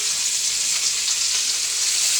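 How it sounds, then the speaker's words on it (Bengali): Fish heads coated in turmeric and chili frying in a pan for a fish and black gram dal: a steady, close, hissing sizzle that holds at an even level throughout. "মাছের মাথা ভাজি করব"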